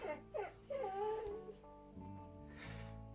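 A dog whimpering and crying close by, with several high, wavering whines followed by softer, lower whimpers.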